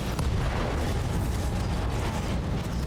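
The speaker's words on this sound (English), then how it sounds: "I'll take the ammo explosion." A mech's ammunition explodes in the BattleTech video game, a dense rumbling blast with crackling debris that stays loud and continuous for a few seconds.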